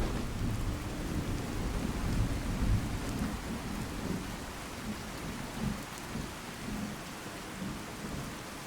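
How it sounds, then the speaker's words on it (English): Steady rain and deep rolling thunder rumble through a modded Fallout 4 game world, a continuous low storm wash with swelling thunder bursts and no voices over it. "I love the rain sound in this mod list."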